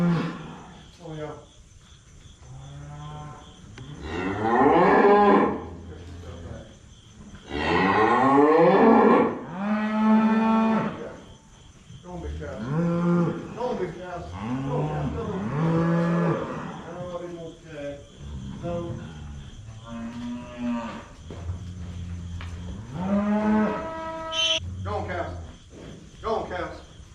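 Cattle on a farm moo repeatedly, several long, loud, drawn-out calls close by, some overlapping, with insects chirping steadily in the background.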